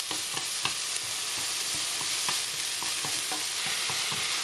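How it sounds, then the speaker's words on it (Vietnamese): Meat and shallots stir-fried in hot oil, tossed until browning, give a steady close sizzle with repeated scrapes and clacks of the utensil against the pan, no voices. "đảo qua lại cho nó nâu lên, rồi mình xào thịt"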